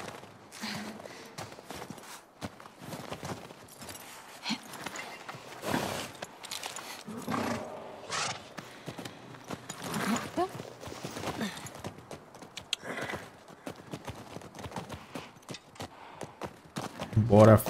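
Hooves clip-clop at a walking pace in The Last of Us Part II, fairly faint and uneven, mixed with people talking and some rustling, then a brief louder burst at the end.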